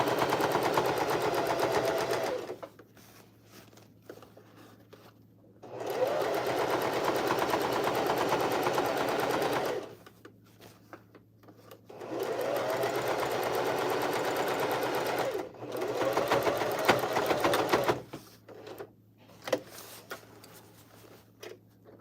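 A sewing machine stitches the seam of a bucket hat in three long steady runs, each a dense continuous whir of needle and motor, separated by short pauses with light handling noises.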